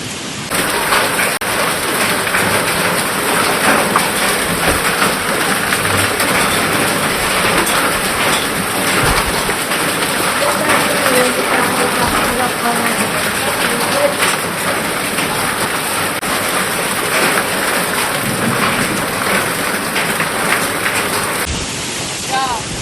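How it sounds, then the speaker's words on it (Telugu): Heavy rain pours down during a thunderstorm in Telangana, a loud unbroken roar of downpour throughout, with low rumbling swells mixed in and the storm filling the whole stretch. "ఉరుములు మెరుపులు ఈదురుగాలులతో కూడినటువంటి వడగళ్ల వర్షాన్ని కూడా చూస్తున్నాము"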